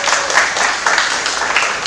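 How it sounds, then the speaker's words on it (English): An audience at a public debate applauds the debaters: a dense, steady wash of many hands clapping close by, sustained and fairly loud throughout with no voices rising above it. "Please give them a huge round of applause first."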